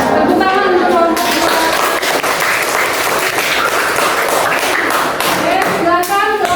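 A classroom group in a teacher-training session bursts into sustained applause, dense clapping from many hands for several seconds, loud and close, with voices briefly at the start and end.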